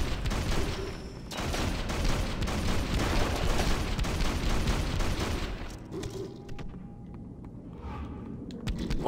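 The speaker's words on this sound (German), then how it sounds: "Oh, mit Schrotflinte." Repeated shotgun blasts and heavy gunfire in the sewer level of the video game Hunter: The Reckoning, loud and dense for most of the stretch before thinning out near the end.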